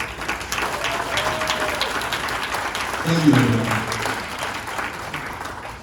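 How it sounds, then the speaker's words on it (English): Wedding guests applaud at a reception, a steady, moderately loud patter of clapping that runs throughout, while someone speaks briefly over it partway through. "Can we give a quick round of applause to the people who made this day special for us?"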